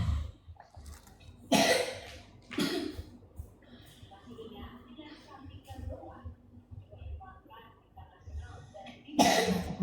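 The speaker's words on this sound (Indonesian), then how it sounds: "Cuma mau batuk-batuk." Several sharp, loud coughs break out at irregular intervals, with quieter sounds and breathing between them.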